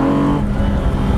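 Lamborghini Diablo V12 engine making 492 horsepower, a loud, steady close-up engine roar with a strong low tone that eases slightly partway through, with no talking.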